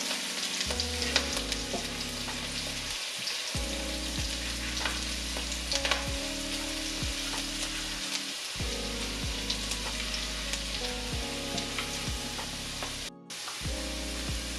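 Chopped green beans and carrots sizzle and crackle in a hot pan while being stir-fried. Scraping strokes of a spatula come in irregular bursts over a steady frying hiss, close up and with no talk.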